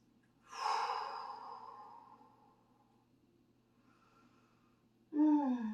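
A person draws a long, deep breath in during a guided yoga relaxation, the slow inhale close and soft in a quiet room, followed by a short, sharper breath a few seconds later.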